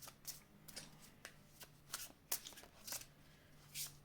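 Tarot cards being shuffled by hand, a steady series of soft riffling flutters and taps at an even rhythm, close and quiet with no talk.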